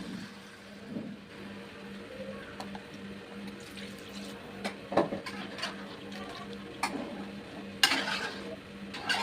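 Chicken curry with tamarind leaves is stirred in a pot, soft scraping and bubbling close by with sporadic clinks of the spoon against the vessel, fairly quiet and without speech.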